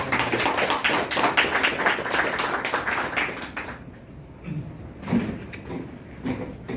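Audience members at a book talk in a bookstore event hall clap together for several seconds, a dense patter that then stops, leaving quiet room noise and a voice speaking.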